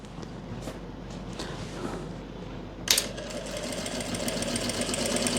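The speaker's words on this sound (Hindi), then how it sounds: "आपने सिलाई लगानी है" A sewing machine stitches pleats into cut fabric, its fine, even running whir starting abruptly partway through and continuing steadily to the end after a quieter stretch of room noise.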